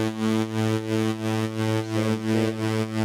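A distorted, EQ'd bass synth in FL Studio for a happy hardcore remix, droning thick and buzzy with a steady pulsing rhythm of regular swells and dips, played alone.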